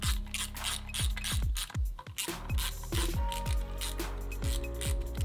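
Ratchet clicking in quick repeated bursts as bolts on a see-thru clutch cover are snugged down on a Honda CBR/VFR hybrid sportbike motor, close and loud, with short pauses between strokes.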